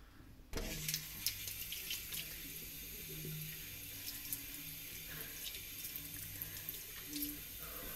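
Tap water running into a bathroom sink during face washing, starting abruptly after a brief quiet moment and continuing as a steady close splashing hiss.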